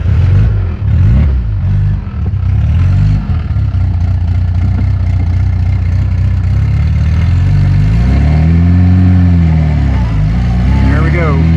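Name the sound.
car engine starting and revving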